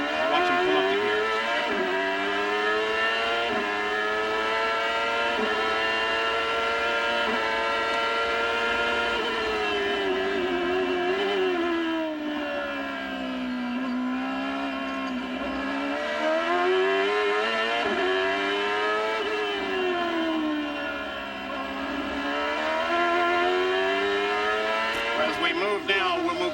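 Onboard an IndyCar during the 1996 Grand Prix of Monterey, the race engine screams loudly and continuously, its pitch climbing and dropping repeatedly as the car shifts up through the gears.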